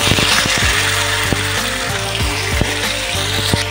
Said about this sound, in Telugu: నెక్స్ట్ ఈ పొటాటోస్ వేసుకోండి.